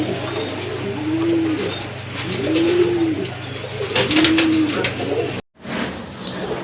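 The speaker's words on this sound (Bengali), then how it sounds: "আরেক জোড়া কবুতর, এটা হচ্ছে কোকা কবুতর। এটা কিন্তু সম্পূর্ণ রানিং আর প্রচুর ডাকে।" A pair of Koka pigeons, a fancy breed kept for sale, give three soft, rounded coos at a steady rhythm, close by, over a low steady hum, with no talking.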